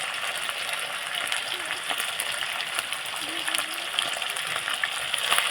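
Chicken biryani masala with salt sautéing in a pan, a soft continuous sizzle with light stirring scrapes, fairly close and moderate in level, with no talk over it.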